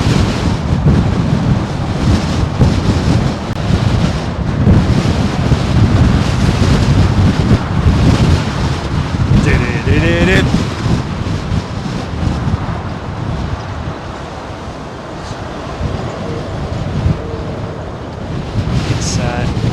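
Jet airliners arriving overhead on runway 27L at London Heathrow Airport on a very windy day: a steady, heavy roar mixed with loud wind buffeting the microphone for the whole stretch, with no one speaking.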